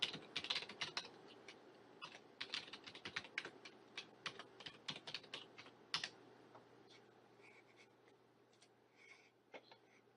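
Someone types a sign-in on a computer keyboard, quick irregular bursts of soft close-up keystrokes that thin out toward the end, quiet and without talk.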